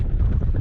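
Strong outdoor wind buffeting a microphone on a windy day in open country in Idaho, a loud continuous low rumble with no voices, lasting under a second.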